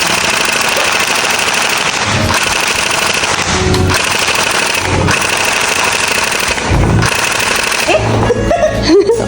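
Loud, continuous rattling gunfire from an arcade sniper shooting game, dense and mechanical with a few heavier thumps and rising electronic effects near the end.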